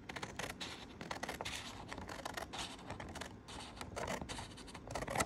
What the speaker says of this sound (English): Cut right on this black line.